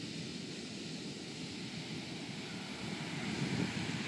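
Ocean waves wash onto the shore in a continuous broad rush that swells slightly toward the end, mixed with wind buffeting the microphone and no voices.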